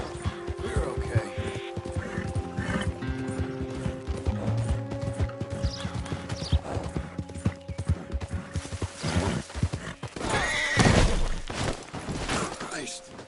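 Horse hooves clip-clopping with an occasional whinny in Red Dead Redemption 2 on PlayStation 5, heard under game music and a voice talking to the horse, with a louder burst near the end.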